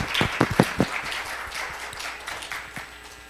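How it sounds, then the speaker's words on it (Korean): An audience at a Unity developer conference session in Korea breaks into applause, a dense wash of clapping with a few sharp louder claps at the start, then a steady fade. "큰 박수 주세요."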